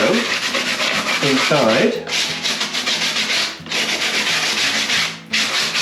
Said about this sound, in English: Now I'm just going to have a little precautionary rub down